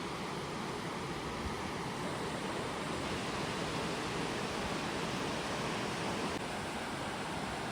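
River water lapping and rushing nearby at night, a constant broadband wash of small waves with no voices heard.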